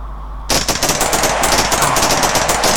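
Rapid automatic gunfire from a gun in Minecraft, used for farming, bursting in suddenly after a short quiet moment and continuing as a loud, steady stream of shots.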